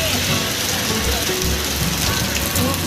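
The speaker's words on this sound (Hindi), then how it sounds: "बहुत तेज बारिश आ गया भाई।" Heavy rain pours down in a steady, dense hiss, loud and close, with a low rumble underneath.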